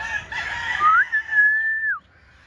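A gamefowl rooster on a ranch poultry yard crows once, a long, clear, rising-then-held call near and loud, ending abruptly into quiet.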